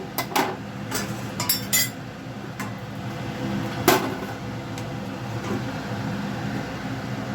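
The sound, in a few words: covering the pot of moong dal with a lid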